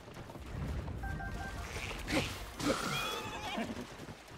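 A horse whinnies twice in Zelda: Tears of the Kingdom, each call a sharp, shrill neigh rising out of steady game ambience, with faint hoof clatter and a light crash between them.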